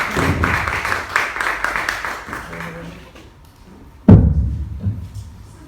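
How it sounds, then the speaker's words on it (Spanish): Audience applause at a talk on transatlantic relations, a moderate patter of clapping for about three seconds that fades, followed by a sudden thump and some handling noise. "un aplauso muy merecido"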